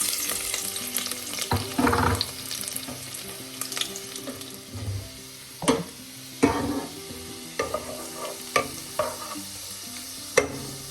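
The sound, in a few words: chopped garlic frying in hot sunflower oil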